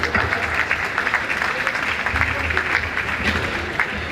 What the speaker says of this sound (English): The applause can continue